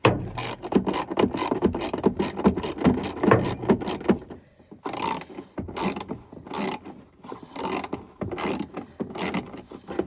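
Ratcheting a 10mm bolt loose on a 1984 first-generation Chevy S10 while servicing the wiper fluid tank, a fast run of close, crisp ratchet clicks followed by several slower separate bursts of clicking.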